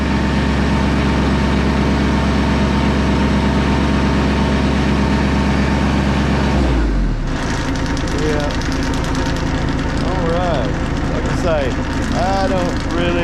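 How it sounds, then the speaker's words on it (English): A Bomag BMP8500 roller's engine idles low and steady, then its throttle is raised around midway, shifting to a busier, higher running drone that continues loud and close. "go ahead and idle it up."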